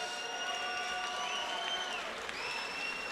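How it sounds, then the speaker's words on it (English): A boxing arena crowd applauds two fighters after ten rounds: a steady wash of clapping and crowd noise with thin whistling tones drifting over it. "a round of applause for two true warriors"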